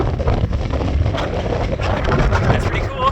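Strong wind on a coastal track near a lighthouse, roaring and buffeting a microphone with heavy low rumble throughout, close and loud for a few seconds.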